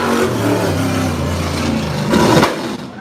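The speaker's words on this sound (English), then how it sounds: "That's a pretty loud backfire there" A sprint car engine at Unity Raceway, during a Sprint Cars of New England championship race, runs loud and steady, then swells into a brief harsh burst near the end like a backfire before easing off.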